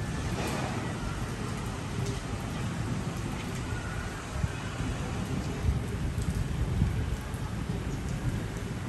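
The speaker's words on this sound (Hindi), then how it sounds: "यहाँ पे बारिश हो रही तेज।" Heavy rain pours down steadily on a street in Hyderabad, a dense continuous hiss with low rumbles underneath and nobody speaking.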